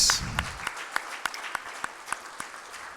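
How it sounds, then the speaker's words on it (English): Applause from an audience at a fireside-chat session fades out: a brief fuller burst gives way to quiet, evenly spaced single claps trailing off. "let's give them another good round of applause"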